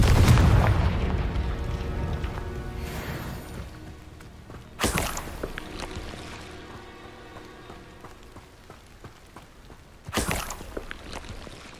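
Confringo fire-blast spell in Hogwarts Legacy: three booming explosions a few seconds apart, the first heaviest, each followed by a crackling, rain-like tail that fades away.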